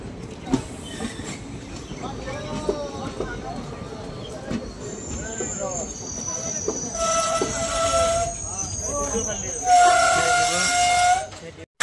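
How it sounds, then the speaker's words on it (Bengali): The Sifhung Express pulls into platform 2 at Sorbhog, wheels rattling and clacking, then rising metallic brake squeals near the end, with people talking over the rumble. "আমাদের ট্রেন সরভোগের 2 নাম্বার প্ল্যাটফর্মে ঢুকে পড়লো"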